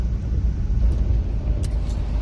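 A camper car creeps along in a traffic jam, giving a steady low engine and road rumble, close and constant, with a faint brief hiss near the end and no talk.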